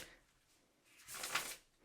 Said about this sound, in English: It's really hard to try to shuffle on camera for me.